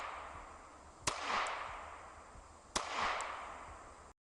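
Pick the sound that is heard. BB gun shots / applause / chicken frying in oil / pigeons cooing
BB gun shots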